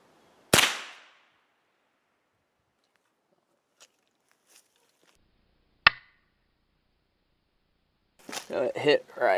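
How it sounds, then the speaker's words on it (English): A 36-grain .22 Long Rifle round fired at cheap pan-style body armor: one sharp, loud shot near the start, a few faint small clicks after it, then a second crisp metallic crack. People talk briefly at the end. "first up is a 36 grain 22 long rifle"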